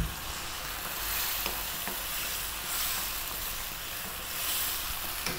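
Canned crushed plum tomatoes go into a hot pan of shrimp for a spicy pasta and set up a steady, close, loud hiss of frying, with faint stirring scrapes underneath.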